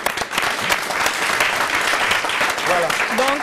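Steady applause from a studio audience on a radio-television show runs throughout, dense and even, while a voice speaks over the clapping near the end.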